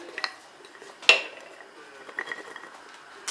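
A new metal lid is placed on a glass pickle jar in a home kitchen, giving a sharp close clink near the middle with lighter taps and clatter before and after in a quiet room.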